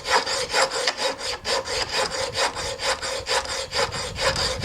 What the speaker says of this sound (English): I'm trying to do all of this by hand with files and stuff